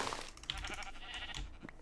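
Sheep in a video game bleat in short, faint calls, overlapping with background game noise and a low hum, with no speech.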